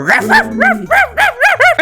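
A dog in the Minecraft video game gives a quick run of about six loud, close barks and yips in an uneven rhythm, with no talking over them.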